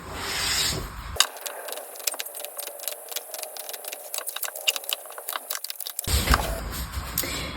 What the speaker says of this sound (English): So let's shuffle the deck and see what messages come through.